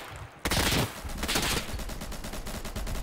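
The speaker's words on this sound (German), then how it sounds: "Ich werde hier gerade von hinten angeschossen." Rapid gunfire bursts out suddenly from close range in the tactical shooter game Insurgency, sharp overlapping shots continuing densely for a few seconds.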